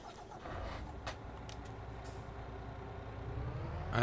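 Truck engine in Farming Simulator 22 rumbling steadily for the whole stretch, a low continuous drone with a few brief clicks over it and a louder surge at the very end. No speech.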